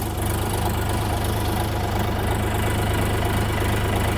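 A DTZ 5354 tractor with a 1.9L CF3B35T 35 hp engine idles steadily nearby, a loud, even low-pitched chugging with a regular knock that holds without change and no voices.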